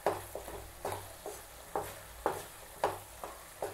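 A spoon works thick dates halwa around a pan in repeated scraping strokes, roughly two per second, close and fairly quiet over a low background hum, with no voices.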